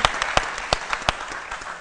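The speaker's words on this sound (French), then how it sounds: "Ça s'applaudit quand même." Studio audience applause on a midday television show, a loose scatter of individual claps with a few sharp louder hits standing out over a soft background wash.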